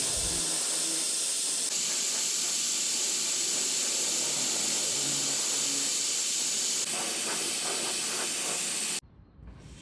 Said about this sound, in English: I sprayed it on using my Wagner Erlex